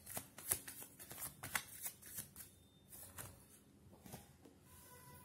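Tarot cards being shuffled in a quiet room, quick papery riffles and soft flicks in uneven bursts, close and faint, with no voices.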